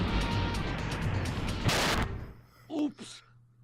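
An explosion in the Spyro 3: Year of the Dragon video game, set in Enchanted Towers: a dense, loud blast with a sharp burst of debris that cuts off, followed by a short, fainter game chirp.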